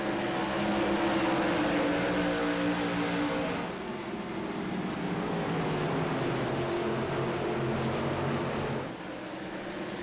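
Modified-series race cars lap the Myrtle Beach track in a continuous engine roar that swells and fades as the cars pass, with a drop in level near the end.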